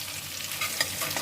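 Chicken pieces fry in hot oil in a pan with a steady, close hiss and light crackle, a faint scrape of stirring breaking through once or twice; no voices.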